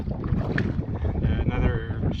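A canoe crosses a lake in Algonquin during wild weather: soft paddle strokes and water swishes sound close by, mixed with gusty wind buffeting the microphone over a short stretch.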